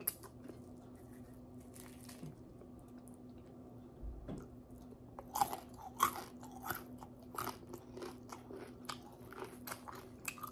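Close, crisp crunching and chewing of hot, crispy fried chicken, starting with a quiet handling sound, then a run of sharp bites and moist squishy chewing with no talking.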